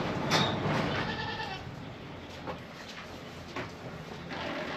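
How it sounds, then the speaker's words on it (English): Goats bleat now and then in a barn, a few calls near and others fainter, over a steady background hum with no talking. "My goats are being kind of loud this morning."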